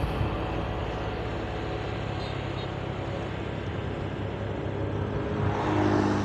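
A car drives steadily around the Songgong roundabout on the way to the Mandalika circuit, its engine and road noise forming a continuous close rumble that swells slightly near the end. No one speaks.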